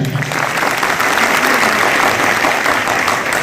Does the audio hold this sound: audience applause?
yes